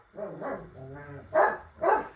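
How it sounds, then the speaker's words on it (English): Dogs barking indoors in a few bursts, the last two louder and close, with a whine or voice-like sound between them. "I think I got the dogs calmed down"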